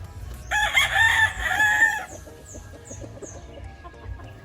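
A rooster on a Philippine farm crows loudly and close by for about two seconds, with harmonic bands wavering, then softer chirps and clucks from fowl carry on over a low rumble.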